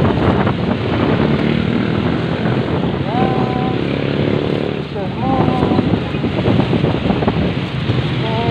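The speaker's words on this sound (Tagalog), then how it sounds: "Naglalakad malakas ang hangin" Strong wind buffeting the microphone in a constant loud roar, with brief tonal whistles and a voice speaking faintly beneath it.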